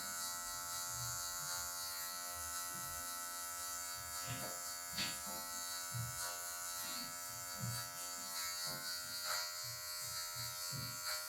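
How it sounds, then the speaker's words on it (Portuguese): An electric hair clipper trims a V-shaped mid fade, its tip removing a marked patch of hair: a steady, close, high buzz that runs throughout, with faint low murmurs underneath. "Só com a ponta da máquina eu vou removendo essa partezinha aqui"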